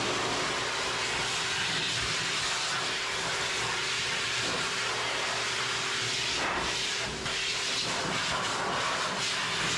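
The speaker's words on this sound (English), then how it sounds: "her ears while I blow dry her" A blow dryer roaring steadily as it dries a Miniature Schnauzer during grooming, a loud, continuous airy hiss with a faint tonal whine, close and unbroken.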